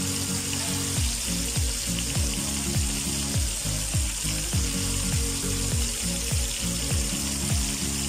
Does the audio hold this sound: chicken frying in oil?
yes